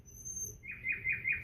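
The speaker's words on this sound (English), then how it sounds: "I hear the sound of the birds" Birds singing outdoors in the morning, a few clear chirps repeating in a quick rhythm at moderate loudness against quiet background hum.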